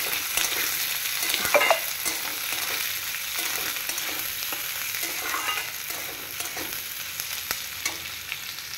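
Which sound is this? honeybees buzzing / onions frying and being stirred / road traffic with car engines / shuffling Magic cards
onions frying and being stirred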